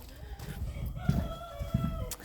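Cochin hens cluck and murmur softly nearby, a few short throaty calls over a quiet farmyard background.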